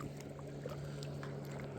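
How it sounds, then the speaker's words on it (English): A steady motor hum drones low and constant, like a boat engine passing on the water nearby, with faint lapping and no talking. "Here comes the boat."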